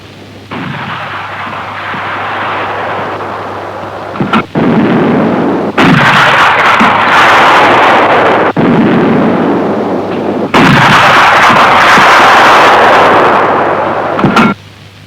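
Loud bursts of simulated artillery gunfire from a 1960s Saab gunfire simulator used in Swedish Army training boom in repeated volleys, each blast followed by rumbling decay, with brief sharp cracks between them.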